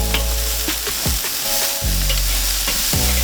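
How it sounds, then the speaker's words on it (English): T-bone steaks sear over hot coals on a Weber kettle grill, giving a loud, steady sizzle with several sharp low thumps and clanks as the meat and grate are handled. "we're just going to throw them over here to sear them"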